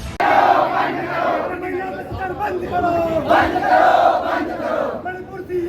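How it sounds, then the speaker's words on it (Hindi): A protest rally crowd chants slogans in unison outside a collector's office, a dense, loud, rhythmic mass of voices carrying on steadily throughout. "जैस कार्यकर्ता रैली बनाकर घटना का विरोध करते हुए कलेक्टर कार्यालय पहुंचे और जमकर नारेबाजी की।"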